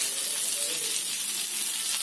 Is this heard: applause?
no